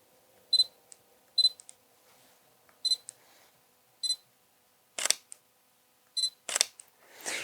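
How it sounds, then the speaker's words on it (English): Mechanical shutter of a Sony A7R V mirrorless camera fires about eight soft, quiet clicks at irregular intervals in a silent room, each a brief crisp snap. "The shutter has a very satisfying soft sound to it."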